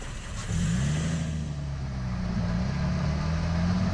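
A 2020 Toyota Tacoma pickup's engine hums steadily from inside the cab on a bumpy road, its pitch rising and wavering slightly under constant road rumble and rattling noise.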